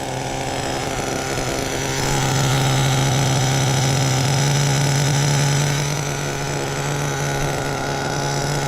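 A Savage XL RC truck with a Force .32 nitro engine idles cold, a buzzing, raspy high-revving drone that rises a little in the middle, then settles back, loud and close.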